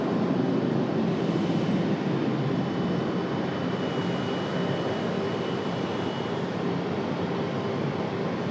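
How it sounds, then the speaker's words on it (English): Cessna Citation NetJets business jet at Raleigh-Durham airport, a steady distant engine roar holding at an even level throughout, with no voices over it. "There's our Cessna Citation"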